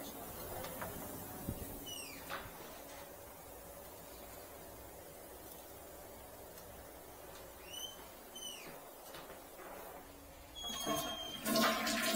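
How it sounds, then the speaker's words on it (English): Water running down a clogged household drain, a steady rushing wash with faint chirps and squeaks, ending in a louder gurgling splash. "I'm going to run a bunch of water"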